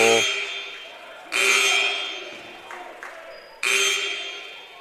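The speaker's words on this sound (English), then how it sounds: "scores table keeps ringing the buzzer." At a girls' high school basketball game, the scoring table buzzer sounds twice in loud, sustained blasts, each fading slowly, with a shorter faint tone and arena noise in between.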